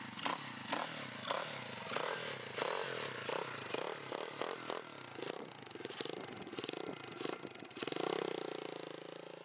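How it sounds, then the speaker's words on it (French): A 2011 YCF 125 dirt bike engine runs steadily nearby, its buzzing drone rising and falling with blips of throttle, with a louder rev near the end. "maintenant Mike va démarrer donc sa moto, la 2011, et vous allez comparer vous-même."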